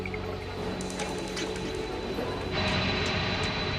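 Engines of a military transport aircraft carrying orphans out of Saigon during the Vietnam War roar steadily as throttles advance, a loud, continuous drone that swells sharply near the end.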